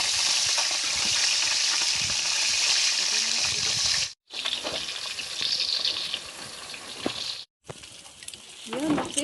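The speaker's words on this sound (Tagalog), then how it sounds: "kaya hindi mawawala yung aming prito basat na isda" Fish frying in hot oil gives a loud, steady crackling sizzle close by. Two brief cuts to silence break it up, and light background noise can be heard.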